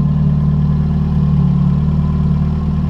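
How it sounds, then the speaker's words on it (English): A Honda S2000 AP1 fitted with a homemade DIY exhaust runs at close range, a loud, steady, deep engine drone holding even throughout with only a slight swell in the middle, no talk over it. "A little bit of rev there"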